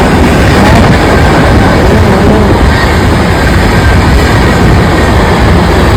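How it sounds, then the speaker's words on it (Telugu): A train roars past very close and loud, a continuous heavy rumble and rattle of wheels filling the whole stretch. "చూడండి ఎంత ఫాస్ట్ పోతుందో ట్రైన్"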